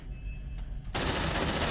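Automatic gunfire in the video game Aliens: Dark Descent breaks out as a sudden, loud, continuous rapid burst after a quieter background hum.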